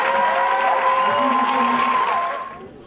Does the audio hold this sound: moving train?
no